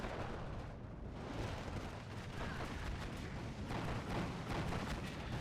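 IL-2 ground-attack aircraft bombing run in Steel Division 2, a sustained barrage of deep rumbling blasts and crackling explosions rolling on continuously, heavy low-end booms layered with gunfire.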